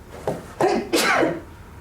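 A single sneeze bursts out in a village council meeting in Addyston, Ohio, sharp and fairly close, set against the quiet room murmur.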